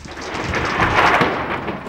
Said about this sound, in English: count the seconds until the thunder is heard